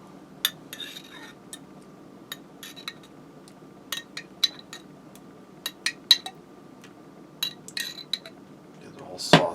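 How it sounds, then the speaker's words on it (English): A spoon clinks and taps in short, scattered bursts while jarred pasta sauce is spooned onto stromboli dough, with soft scraping between the knocks and a louder clatter at the end. "I'm going to go ahead and put some sauce in here."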